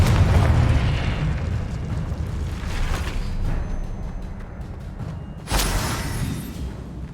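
A Confringo blasting-curse explosion goes off in Hogwarts Legacy on Xbox Series X, a loud booming burst that opens the clip, with a rumbling low tail and a second sharp blast near the end.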